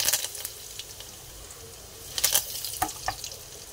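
Curry leaves dropped into hot oil for a tempering, giving soft crackling and sizzling with a few sharper pops near the end, fairly quiet and close, no one talking.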